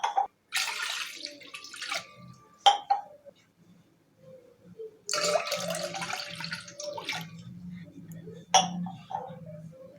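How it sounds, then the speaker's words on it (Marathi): Cold water is poured from a glass into a vessel for lemon sherbet, three close splashing pours separated by pauses, with faint glass clinks between them. "तर मी या ग्लासने बरोबर 3 ग्लास पाणी ॲड करते"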